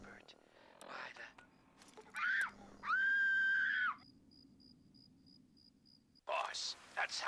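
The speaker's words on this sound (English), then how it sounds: "Boss, that sounds like a kid screaming, and it's coming from those ruins." In a Fallout video game, a child's scream echoes from ruins, a couple of sharp, wavering cries rising out of a quiet, noisy background amid other brief game sounds, with no speech over them.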